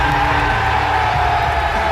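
A big wrestling arena crowd roars for LA Knight in a UK venue, a dense, loud, sustained wash of cheering with no breaks across the whole moment.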